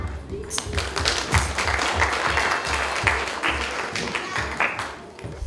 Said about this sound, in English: Could you all give them a clap?